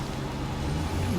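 A heavy truck in the SnowRunner game rumbles at a steady idle, with a constant low engine drone and a soft air-brake hiss layered on top, close and even throughout.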